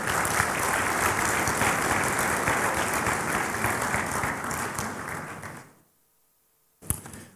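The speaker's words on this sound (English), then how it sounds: "I now ask you to show your acclamation with a round of applause." Delegates at a football confederation congress applaud together in a sustained round of clapping that fades out, followed by a single sharp thump.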